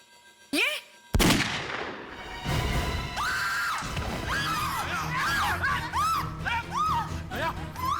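A sharp, loud gunshot cracks out near the start as a CID officer is shot, followed by chaotic shouting and screaming voices over a noisy scene.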